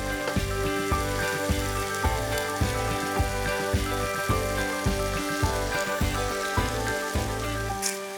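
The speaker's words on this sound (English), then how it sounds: "we're going to let these mushrooms cook down till they go a little bit more soft" Mushrooms cooking down in a pan for wholemeal penne with speck and basil, giving a steady, dense sizzle with soft crackles and occasional stirring, loud and close with no voices.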